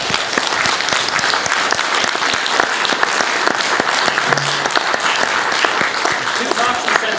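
An audience applauds at the close of an evening talk on narrow-body aircraft crossing the Atlantic, with dense, sustained clapping from a full room that holds steady for several seconds with no voices over it.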